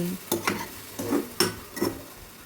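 Okra being stirred and mixed in a pan with salt, four or five distinct scraping strokes of a spoon against the metal over a soft background sizzle, close and clear.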